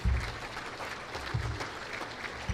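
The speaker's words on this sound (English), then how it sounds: "Give them a big round of applause." A luncheon audience gives a round of applause, a fairly quiet, close-sounding patter of clapping hands with occasional low thumps, lasting a couple of seconds.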